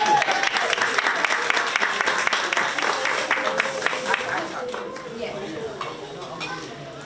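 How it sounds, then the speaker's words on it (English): Audience at a South Ward literacy town hall applauding, a dense wash of clapping that holds steady for several seconds and then thins out, with a voice speaking over the tail end. "everyone a round of applause"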